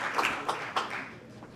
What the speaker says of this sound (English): Let's give her applause as she comes.